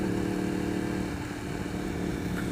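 A 2015 Yamaha R1 motorcycle engine runs loud and close with a steady, sustained droning roar. The pitch stays fairly even throughout.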